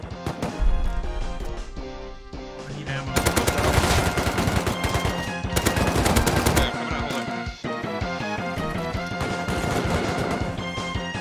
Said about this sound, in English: They're just in smoke, shooting at us.